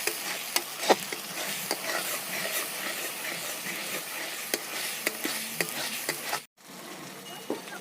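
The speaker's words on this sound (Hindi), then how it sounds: "जब तक मसाले के तेल ऊपर नहीं आ जाते तब तक हम इसे भूनते रहेंगे।" Spice masala frying in oil in a pan for a banana curry, a steady dense sizzle close by with intermittent stirring clicks and scrapes, briefly cut off near the end before resuming.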